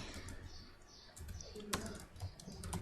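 Someone types a paragraph into a document on a computer keyboard while coding a web page. Light, irregular key clicks are heard, with one sharper tap near the middle and a quiet background.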